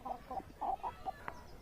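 Chickens at a poultry farm cluck in a handful of short, soft calls close by, clustered with small gaps between them in an otherwise quiet setting.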